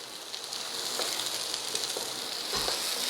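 Chopped onions and tomato sautéing in a hot pan for Kerala-style kadala curry, giving a steady, close sizzle and crackle that runs unbroken throughout with no voices.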